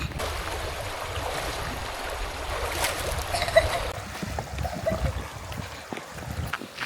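River water flows steadily outdoors with a broad, continuous wash and small splashy rustles, moderately near, faint voices at times beneath the flow.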